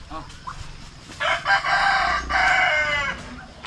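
Farm chickens, hens and a rooster, cluck and crow close by. A loud crow rings out twice, each lasting about a second, over scattered clucks and yard noise.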